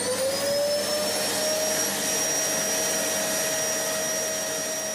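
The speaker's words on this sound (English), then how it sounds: "Can you hear the vacuum cleaner going around, couldn't you?" A vacuum cleaner runs steadily and loudly throughout, its motor whine holding a constant pitch with a broad rushing airflow beneath, alone with no voices.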